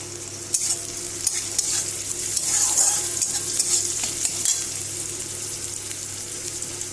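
Turmeric powder stirred into a frying pan over a clay stove: a steady sizzle with scraping stirs and occasional knocks of the utensil against the pan, fairly close.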